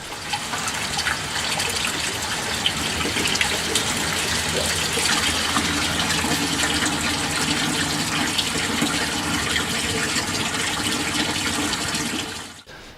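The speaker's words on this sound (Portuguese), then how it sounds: "quando a caixa enche, a água sai pelo ladrão" Water gushes out of a household water tank's overflow pipe in a loud, steady rushing splash that runs unbroken for about twelve seconds before cutting off sharply.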